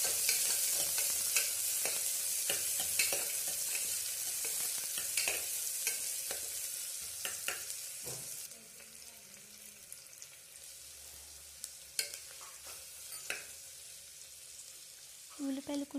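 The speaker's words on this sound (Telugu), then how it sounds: "ఉల్లిపాయలు, పచ్చిమిర్చి వేసుకుని బాగా కలుపుకోవాలండి।" Onions and green chillies fry in a pan for mushroom biryani, a strong sizzle that fades partway while a utensil scrapes and stirs with irregular clicks, close up, a few faint sounds near the end.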